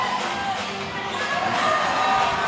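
Crowd noise in a gym at a junior 18U basketball playoff game between Rizal and Marikina, a steady roar of many voices with brief cheers swelling toward the end, under faint commentary.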